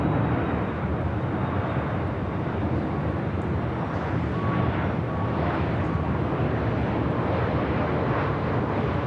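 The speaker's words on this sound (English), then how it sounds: "This arrival is Southwest Airlines 1713 coming in from New Orleans on a MAX 8." A Southwest Airlines Boeing 737 MAX 8 arriving at LAX from New Orleans, a loud continuous broadband jet roar that holds steady throughout, with no break or fade.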